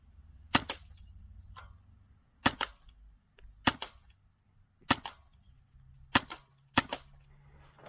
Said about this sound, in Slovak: Môžeme vyskúšať testovaciu dávku, ako je nastavený náš red dot alebo optika.